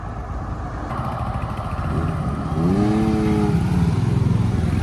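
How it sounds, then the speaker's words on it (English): A Royal Enfield motorcycle rolls into a classic British car meet at a pub, its engine note rising and drawing nearer over a steady background rumble of other vehicles. "So we got a Royal Enfield rolling in."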